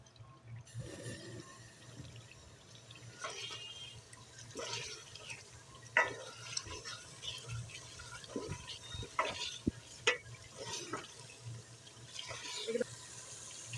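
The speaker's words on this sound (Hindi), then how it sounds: "अब हम इसे अच्छी तरह से तेज़ आंच में भून लेंगे।" Chicken masala stir-fried on high flame in a home kitchen, a steady hiss of cooking with scattered clinks and scrapes of a spoon against the pot, fairly close and continuous.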